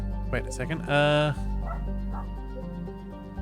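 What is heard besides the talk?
Cavoodle dog barking in the background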